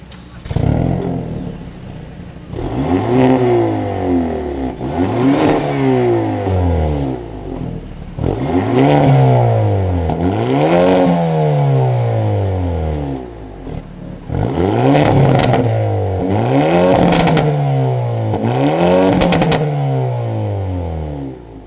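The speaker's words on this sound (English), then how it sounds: "I like to just let you hear the exhaust note one last time." A 2022 Hyundai Elantra N is revved repeatedly from a standstill, its exhaust note rising and falling in loud, close, sweeping bursts in a series of throttle blips spread across the stretch.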